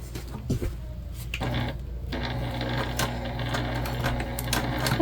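Sewing machine stitching a cloth tag onto the exterior of a bag, a steady close mechanical whir with faint clicks and handling noises.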